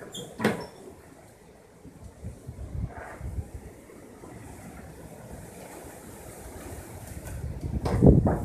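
Strong wind blowing outdoors, a steady rushing roar that swells toward the end, broken by a few knocks and rattles, no one talking.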